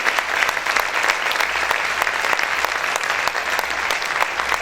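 Loud, steady applause from a church congregation during a Spanish-language sermon, dense clapping sustained throughout with no voices standing out.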